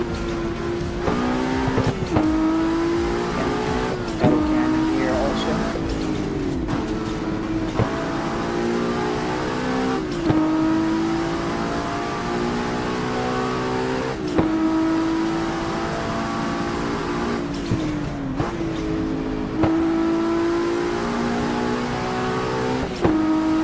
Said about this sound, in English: We're driving the MK4 Supra